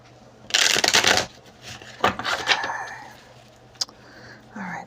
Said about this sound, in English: I'm going to do one more big shuffle.